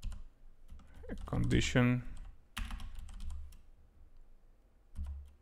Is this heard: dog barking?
no